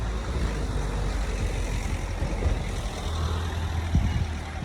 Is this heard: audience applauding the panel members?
no